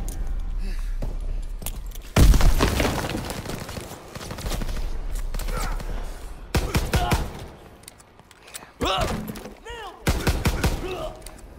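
A grenade goes off in the WWII shooter Call of Duty WWII, one loud booming blast followed by bursts of gunfire and impacts, with a voice speaking between the bursts.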